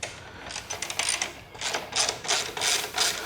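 A hand ratchet clicks in quick, uneven bursts while loosening bolts on a 2013 Harley-Davidson, close and crisp with short pauses between strokes.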